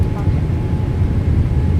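Airliner taking off in a flight simulator game, a loud, steady, broadband engine roar that holds evenly throughout, close and continuous.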